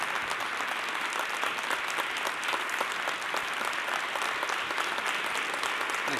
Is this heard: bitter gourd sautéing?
no